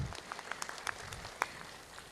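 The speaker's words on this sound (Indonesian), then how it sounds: "berikan tepuk tangan." Audience applause at a graduation-style ceremony for social assistance recipients in Cianjur, heard as scattered, fairly faint clapping spread over a couple of seconds, with one sharper clap near the end.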